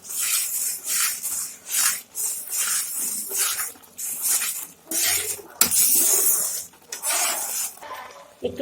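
A spoon scrapes and clinks around a pan while cashews and raisins are mixed into carrot halwa, in repeated rhythmic strokes that rise and fall, close and fairly loud, with a sharp metallic knock partway through.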